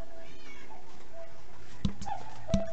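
A cat meows indoors, a couple of short close calls over a constant background hum.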